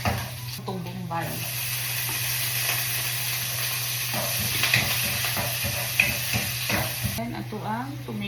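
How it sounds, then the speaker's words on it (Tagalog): Garlic and onion sauté in a hot pan for Filipino adobo, giving a steady close sizzle and hiss with stirring scrapes. A voice speaks briefly at the start and again at the end. "Igisag una ato ang ahos."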